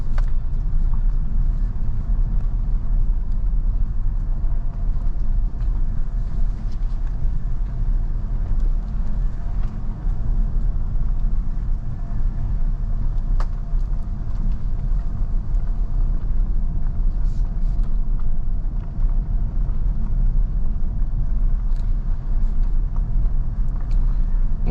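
Inside a Toyota Camry on the move, a steady low road and engine rumble holds at an even level, with no voices.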